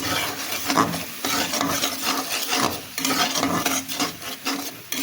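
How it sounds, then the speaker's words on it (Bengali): Chili powder and turmeric masala is stir-fried in a pan for a fish dish, the spatula scraping in a quick repeated rhythm over a soft, close sizzle. "এবার মশলাটা আমি ভালো করে কষিয়ে দেব"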